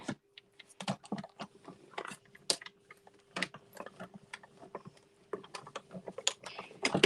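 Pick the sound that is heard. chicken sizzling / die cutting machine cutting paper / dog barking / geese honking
die cutting machine cutting paper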